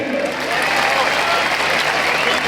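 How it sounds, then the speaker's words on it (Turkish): A crowd claps steadily and loudly throughout, dense sustained applause with a few voices mixed in. "emeği geçen herkese kocaman bir alkış gönderelim mi?"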